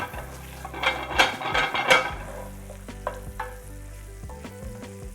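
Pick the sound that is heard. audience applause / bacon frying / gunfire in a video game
bacon frying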